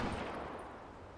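A brief, dense burst of explosion and gunfire in Call of Duty Black Ops 3 multiplayer on PS4, a loud booming blast that slowly decays over about a second with no talk over it.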